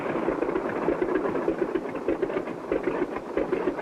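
A cartoon small airplane circles in to land, its propeller engine droning steadily at close range with a rough, pulsing mid-pitched hum and no voices.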